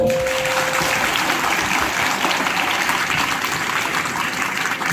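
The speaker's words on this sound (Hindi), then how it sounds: "नाटक देखते समय मैं कलाकारों के लिए एक बार चाहता हूं जोरदार ताली बजाओ" An audience gives loud, sustained applause for the performers of a play, a thick continuous wash of clapping, with a brief tone near the start.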